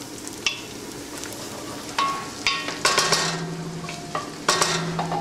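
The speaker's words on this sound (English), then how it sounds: "So we've got mustard seeds, cumin seeds, onion frying up." A continuous sizzle of mustard seeds, cumin seeds and onion frying in a hot pan, with occasional clinks and scrapes of a utensil stirring against the metal.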